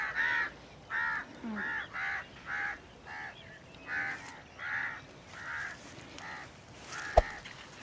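A Chinese quail (chaini bater) calls in a run of about ten evenly spaced, rhythmic notes, moderately close, with a sharp knock near the end and no talk.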